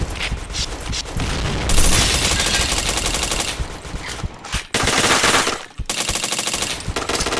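Rapid automatic gunfire in a shooter video game, dense loud bursts of rattling shots continuing almost without pause, with brief gaps between volleys.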